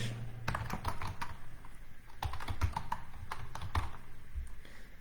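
Keys clatter on a computer keyboard as text is typed into a code editor, irregular close clicks in quick bursts with brief pauses between them and no voices.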